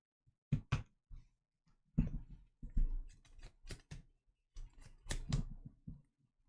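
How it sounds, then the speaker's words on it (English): Trading cards for the Flesh and Blood game are shuffled near a microphone, giving several quick, faint bursts of riffling and snapping clicks separated by short pauses. "I know you guys can hear me shuffling my cards."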